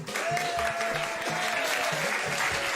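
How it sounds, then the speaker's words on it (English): A round of applause rings out on a Nigerian newspaper review programme, an even clatter of clapping over a sustained tone and a low, pulsing backing. "A round of applause to all of you too, ladies and gentlemen."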